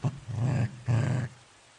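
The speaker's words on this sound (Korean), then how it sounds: "강아지가 으르렁거리는 소리에" A dog growling twice, two low, rumbling snarls in a row with a brief gap between them, close and clear with nothing else behind it.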